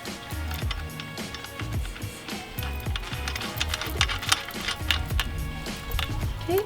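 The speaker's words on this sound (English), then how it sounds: "And then we're going to get everything bolted down here." Bolts are tightened down on an AEM cold air intake fitted to a Honda Civic EK, with scattered sharp metallic ticks and clicks of tools over a busy, close workshop background.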